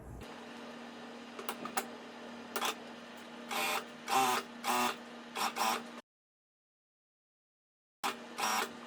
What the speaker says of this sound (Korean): 아래쪽 스크린 들어가는 부분을 다시 박음질 하도록 하겠습니다